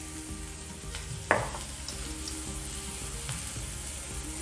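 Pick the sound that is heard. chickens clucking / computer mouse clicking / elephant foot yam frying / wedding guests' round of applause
elephant foot yam frying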